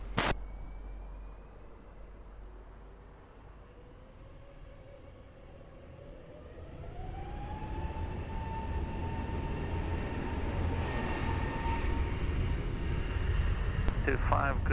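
An airliner takes off from runway 20 at Lisbon Airport, its engine roar swelling steadily from a distant rumble into a loud, sustained thrust, with radio voices talking over it.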